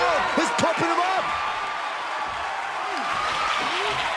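Crowd noise in a wrestling video game, a steady broad roar of cheering filling the background while a commentator's voice talks over it in the first seconds.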